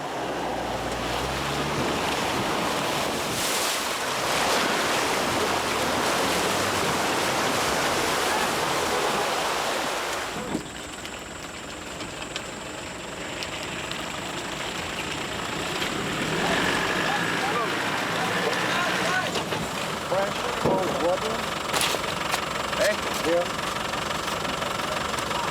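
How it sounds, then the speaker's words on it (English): A Land Rover wades through a river on an expedition convoy, its engine droning under a constant heavy rush and splash of churning water, loud and close throughout. "the slick manoeuvre of the UK car through another river"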